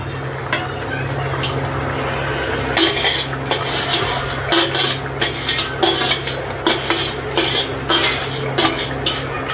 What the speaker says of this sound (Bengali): এবার আমি মাছটা দেব, দিয়ে আরও 5 মিনিট ঢাকা দিয়ে রেখে দেব। মাছটা দিয়ে দিচ্ছি, দেখুন।